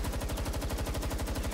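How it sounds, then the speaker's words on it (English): Rapid automatic gunfire in the video game Palworld, a fast, even stream of shots repeating roughly every tenth of a second, steady and moderately loud with no speech. "Let's see how much I do with just shooting them."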